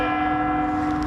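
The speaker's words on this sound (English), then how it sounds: "Why a council has decided after 135 years that its town hall clock's too loud" A 135-year-old town hall clock chimes, its bell ringing steadily with a sustained resonant tone that stays loud and even throughout, with no voices over it.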